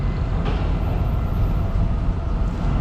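A train at Wongwian Yai railway station in Bangkok on a Sunday evening: a steady, loud low rumble of rolling rail cars fills the whole stretch, with no voices.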